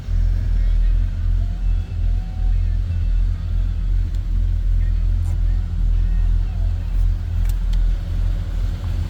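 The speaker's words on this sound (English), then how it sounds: "This is a smooth running truck." A 1978 Chevrolet C10 Silverado pickup idles steadily, its engine giving a loud, constant low rumble that holds throughout with no revving.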